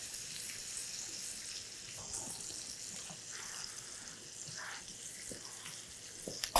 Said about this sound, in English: Hear that sear? That's what you want to hear. It's a beautiful sound.